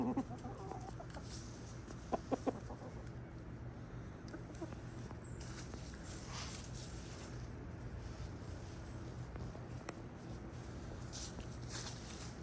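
Chickens, hens with a rooster among them, cluck softly and intermittently outdoors, faint and scattered, with a few sharper clucks early on over quiet ambient noise.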